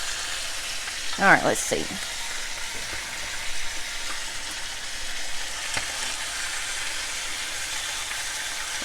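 Pork chops sizzle and spatter steadily in a skillet with butter, garlic and thyme, a continuous frying hiss with a brief louder burst early on and a short spoken remark.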